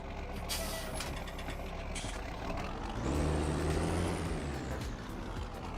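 A tractor in the Farming Simulator 19 video game. A steady engine drone runs under hissy noise, then a deeper, louder engine rumble swells midway and holds.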